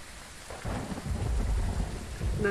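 Thunder rumbles in over steady rain during a storm in the horror game Phasmophobia, a low rolling boom that swells and lingers beneath the patter of rain.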